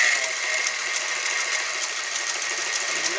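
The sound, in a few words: vintage Montgomery Wards sewing machine stitching two layers of denim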